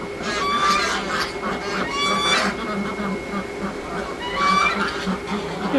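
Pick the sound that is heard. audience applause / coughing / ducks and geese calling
ducks and geese calling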